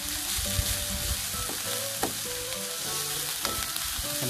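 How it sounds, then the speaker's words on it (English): Onions sweating gently in a pan for a curry base give a steady, soft sizzle with faint stirring clicks, close and continuous with no talk. "as you can see, the onions is slightly sweating, so it's still clear"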